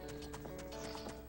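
A horse in The Legend of Zelda: Ocarina of Time gallops with quick rhythmic clip-clop hoofbeats, a brief whinny mixed in, game sounds steady and close.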